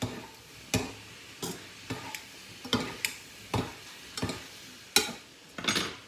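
Pork and seafood meatballs with spring onion are stir-fried, with a utensil scraping and clanking against the pan in a series of sharp strokes about every half second over a faint sizzle.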